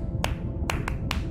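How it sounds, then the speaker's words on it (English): Sperm whale click coda in the Eastern Caribbean 1+1+3 pattern, heard in a video game: sharp clicks spaced out, two single clicks and then a closer trio, over a dense low rumble of deep water. "Sperm whales make clicks in sort of rhythmic patterns that we call codas."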